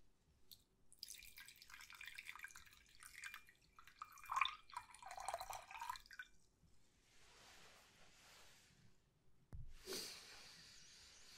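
Water pours into a small glass vial in a potion-brewing roleplay, a soft splashing trickle that runs for several seconds, then a brief louder splash near the end. It is close and quiet, with no talking.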